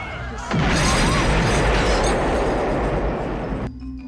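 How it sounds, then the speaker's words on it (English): A thunderous explosion from the 1997 war film Paradise Road bursts in after a brief lull, a loud sustained roar with crashing debris that rumbles on for several seconds before cutting off. "Then, suddenly, a thunderous explosion shatters the night"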